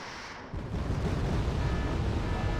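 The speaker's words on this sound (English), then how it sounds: "I'm going to be bombing it with all my Su-7Bs" Su-7B aircraft bombs exploding in Wargame: Red Dragon, a sudden heavy rumble that swells after a quiet start and keeps roaring as a dense, sustained blast.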